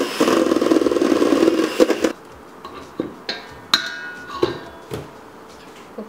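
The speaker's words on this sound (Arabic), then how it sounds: "هبتدي اخفق على سرعة قليلة" An electric mixer at low speed whisks cake batter of egg yolks and full-fat milk for a Swiss roll, giving a steady close whir for about two seconds before stopping, then a few scattered clicks and knocks.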